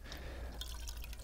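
Water drips and trickles as soaked kava kava pulp is squeezed out by hand in a bowl of water, a close, steady wet splashing without speech.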